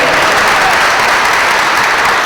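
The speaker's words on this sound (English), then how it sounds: "nice round of applause" A loud, dense round of applause from a large audience at a school's state-of-the-school address, steady and sustained throughout.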